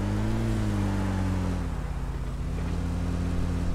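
A vehicle engine hums steadily while being driven in BGMI, a loud, continuous drone that dips slightly in pitch partway through, with no voices over it.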